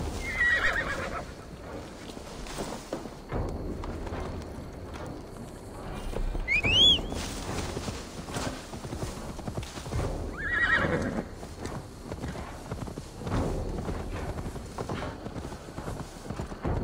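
A horse in Assassin's Creed Valhalla whinnies loudly with rising, shrill neighs, one near the start and another strong cry around the middle, while hooves clip-clop steadily beneath, with quieter game ambience around them.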